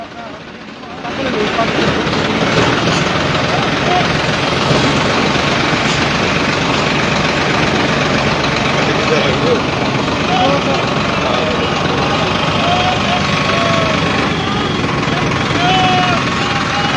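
Farmers drive tractors through Gharaunda town, a loud, continuous engine rumble with traffic noise that swells up within the first second and holds steady throughout.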